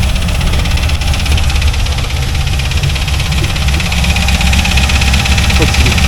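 A C4 Corvette engine with weak connecting rods runs close and loud with a steady idle and a dense metallic rattle throughout, and a voice talks over it.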